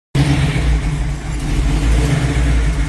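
A 1970 Chevrolet Camaro pro street car engine runs loud and close, a deep steady throb with slight swells in intensity and no voices.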